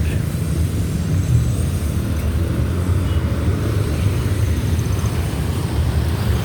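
Heavy road traffic rumbles in a dense, continuous wash of low engine noise from cars and larger vehicles, loud and steady with no clear single pass-by.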